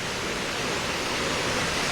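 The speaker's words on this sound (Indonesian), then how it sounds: "Ini sungai asli." A natural river in the Puncak area of Indonesia, heard as a steady, broad rushing flow of water, continuous and fairly close, with no voices over it.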